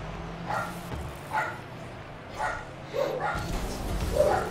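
A dog barks in the background during a live Rocket League esports shoutcast, giving about five short, muffled woofs spaced roughly a second apart at moderate distance.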